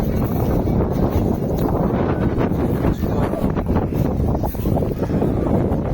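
Strong wind roars steadily across the microphone on the Aegean coast of Greece, a continuous loud buffeting with possible surf mixed underneath and no voices.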